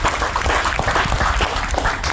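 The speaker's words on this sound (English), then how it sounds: "So you all give her a hand clap for her journey through code compliance." Audience clapping steadily at a retirement celebration honoring a code compliance manager, a dense, continuous wash of hand claps filling the short stretch without pause.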